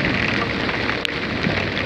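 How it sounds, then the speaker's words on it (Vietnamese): Heavy rain pouring down suddenly in Da Lat, Vietnam, with windy cold weather, a loud, continuous hiss of downpour on surfaces and one sharp tap near the middle, no voices. "Khi mà mưa to ào xuống một phát là coi như là bất ngờ"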